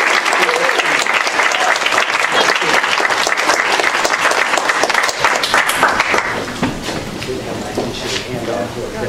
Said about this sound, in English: Again, if you can give them all a round of applause.